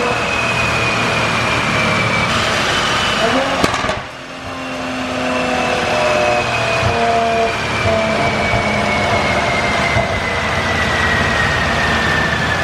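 A big-turbo 2020 Toyota Supra on E85 runs loud and close, a sustained engine drone with rising and falling tones and a brief sharp burst partway through, fan noise underneath.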